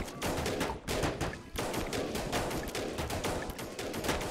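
Sniper rifle fire from the real-time strategy game They Are Billions, set against a loud, dense crackle of continuous gunfire and rapid bursts that runs through the whole stretch with no voices.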